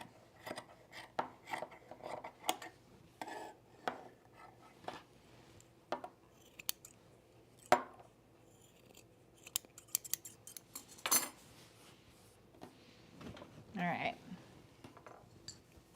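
Scissors trimming a pre-quilted fabric jacket pocket, a series of quiet crisp snips in irregular bursts, close and faint, with soft handling rustles and a brief murmur of talk.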